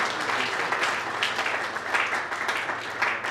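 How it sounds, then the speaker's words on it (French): Audience applauding and cheering inside a church, a dense, steady wash of clapping that stays loud and continuous throughout. "Nous acclamons pendant que le premier citoyen de la RDC reprend sa place"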